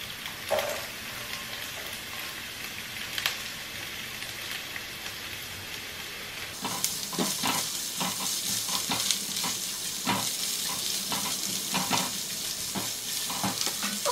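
Onion sizzles in a hot pan as a Filipino dish is cooked, a dense crackling hiss that steps up louder partway through, with stirring scrapes and no one talking.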